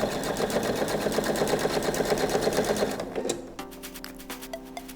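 A sewing machine stitches a welt pocket bag at a quarter-inch seam allowance, running in a fast steady rapid clatter for about three seconds, then slowing to a few short bursts and clicks near the end.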